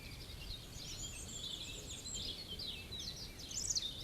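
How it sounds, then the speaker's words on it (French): Birds singing outdoors, faint high chirps and warbling phrases over a low, steady background hiss, growing a little brighter toward the end. "pour moi le chant des oiseaux."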